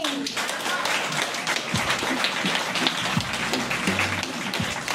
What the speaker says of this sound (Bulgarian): Аплодисменти за Рони